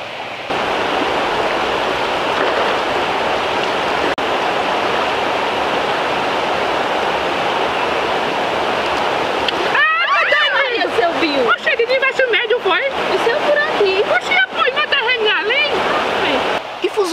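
A steady rush of flowing river water, then choppier splashing and sloshing as someone wades in, with people talking over the water in the second half.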